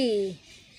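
A crested cockatoo at a small zoo gives one short, loud harsh call with falling pitch, lasting about a third of a second, then only faint background remains.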